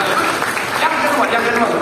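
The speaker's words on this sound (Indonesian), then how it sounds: "Tepuk tangan sekarang yang paling meriah buat Tuhan." A church congregation applauds God with loud, lively clapping that fills the space, a dense sustained wash of many hands with no breaks.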